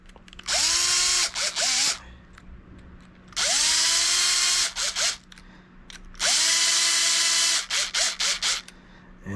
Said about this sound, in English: what I'm gonna do is slowly take my power tool. I'm gonna see if I can catch the threads.